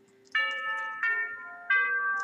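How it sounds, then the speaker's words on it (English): A school bell in the Katawa Shoujo visual novel sounds as a clean electronic chime, three bright tones struck in succession, each ringing and fading into the next, loud and isolated. "I'd argue more, but the bell rings"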